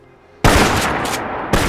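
Winchester Model 1897 shotgun firing buckshot in the Fallout 4 video game: two loud, close blasts about a second apart, the first followed by a long, rolling tail.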